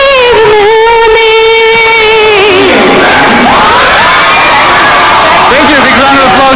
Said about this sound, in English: Big round of applause for you too.